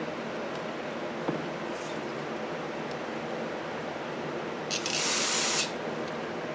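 Cleaner is sprayed onto a 1982 Sachs Eagle moped to clear off gunk: one short, bright hiss of about a second stands out above a steady background rush, with no talking.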